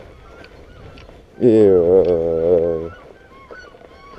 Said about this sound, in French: ah bah bonjour les oies